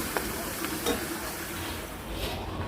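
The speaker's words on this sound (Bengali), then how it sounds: "এই যে এভাবে আমি আস্তে আস্তে পরোটাগুলো ভাজতে থাকি" Parathas frying slowly in a pan give a steady, soft sizzle with a few faint clinks of a spatula, at moderate distance and with no talk over it.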